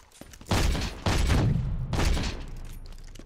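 Three heavy gunshot bursts from BRINK combat, each a loud booming blast with a rumbling tail, spaced about a second apart over quieter background noise.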